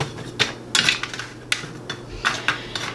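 Buttered pecans are spread across a baking pan for keto caramel pecans, making a close series of light, irregular clicks and rattles as the nuts knock against the metal.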